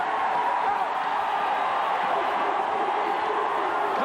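Dense stadium crowd noise from Texas Longhorn fans at the 1991 Cotton Bowl, a steady roar with scattered cheers and whoops filling the whole stretch without pause.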